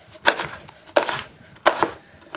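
A knife slices through an onion on a cutting board in three distinct, evenly spaced strokes, each a crisp crunching cut ending in a soft board tap, close and clear with no talking.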